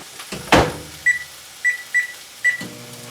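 A microwave oven is operated, with a thump of the door or button press followed by four short electronic beeps at an even pace and then the low hum of it starting to run.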